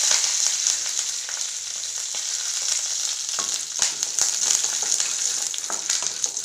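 Chana dal and curry leaves fry in hot oil in a pan, giving a loud, continuous, close sizzling hiss broken by occasional stirring scrapes.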